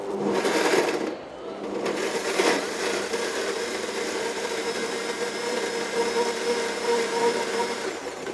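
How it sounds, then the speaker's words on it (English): A high-powered super blender whirs steadily up close, blending seeds with a little water into a smooth mix, with a brief dip in pitch near the start before settling into a constant drone. "You blend long enough for it to be smooth."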